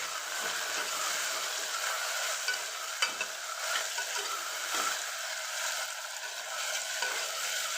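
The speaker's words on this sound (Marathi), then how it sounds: "टाकू आपण टोमॅटो आणि बटाट्याचे काप असं मिक्स करून याला" Tomato and potato slices are stirred in a hot frying pan while making masala rice. A continuous, even sizzle runs throughout, broken by soft scraping strokes of the spatula at a moderate level, close by and with no voices.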